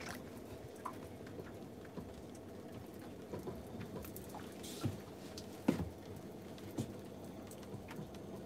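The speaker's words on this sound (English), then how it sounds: "I can't believe it's raining." Light rain patters steadily on a fishing boat, with scattered heavier drops and occasional soft knocks, fairly quiet and close.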